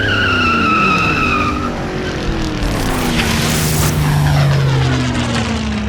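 Tyres skid and screech through a car chase in an abandoned, ruined city, with a loud engine roaring and sweeping in pitch as the car accelerates hard past a rival, and no voices.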